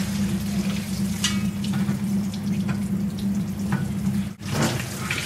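A vintage Westinghouse washing machine pumps out its wash water, giving a steady low pump hum with rushing, splashing water on top, close and continuous throughout.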